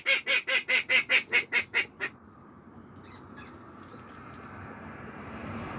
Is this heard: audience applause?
no